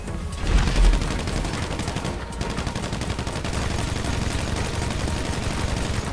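Gunfire in Grand Theft Auto V: rapid, continuous automatic shots rattle steadily and loudly for several seconds, with a heavier thump near the start.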